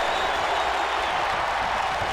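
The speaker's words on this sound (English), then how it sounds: "And the crowd now firing up on the side of Austin Taylor." Steady roar of an arena crowd cheering in a custom-character wrestling video game, a dense continuous wash of noise at even loudness with no clear voices.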